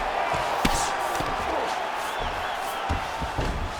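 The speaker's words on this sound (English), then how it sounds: "So the crowd absolutely loving it" Arena crowd at an MMA heavyweight fight roars in a steady, loud wash of cheering during ground and pound, with a few sharp thuds and shouts rising out of the noise.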